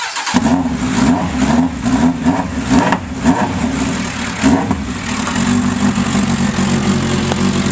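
A Suzuki Bandit 1200 motorcycle engine revs in several sharp bursts through an open straight pipe with no can, loud and close, then settles into a rough, steady idle.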